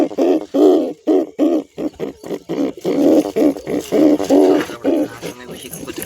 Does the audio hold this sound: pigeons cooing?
yes